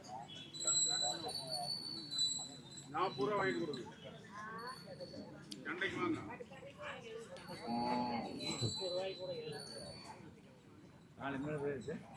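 Cattle low repeatedly at a busy native cattle market in Palayakottai, deep moos rising over a steady crowd hubbub with people talking and a faint bell or clink now and then.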